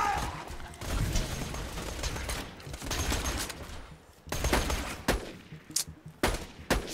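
Sniper rifle fire in the shooter game Borderlands: a run of loud, sharp shots with irregular spacing, some grouped into short bursts and others standing alone, over a busy backdrop of combat noise.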